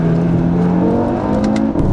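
A 2018 Audi RS3 Sedan engine pulls hard under acceleration, a steady loud low drone with rising whine heard from inside the car, continuous and with no talk over it.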